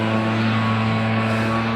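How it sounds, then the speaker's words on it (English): A steady mechanical leaf blower drone with strong low harmonic bands runs unbroken throughout nearby. "That's the sound of a leaf blower."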